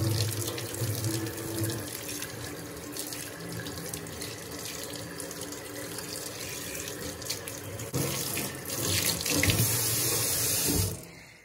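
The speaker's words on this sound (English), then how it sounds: "and now we're just gonna rinse it." Tap water runs steadily into a copper sink, a continuous close rushing splash for about eleven seconds that cuts off at the end.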